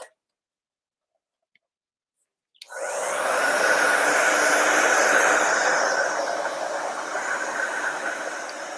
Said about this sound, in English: Let me blow dry this really fast.